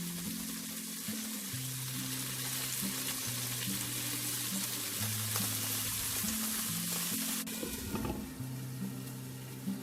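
Chicken wings fry in a covered pan with a constant close sizzle and crackle, steady and dense throughout, while background music plays underneath.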